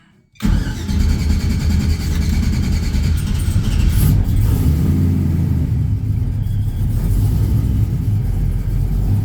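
A Chevy OBS truck with an LS 5.3 engine and 10L80 transmission on a FuelTech standalone ECU starts up and drives, a loud, steady low engine rumble running close and continuous throughout.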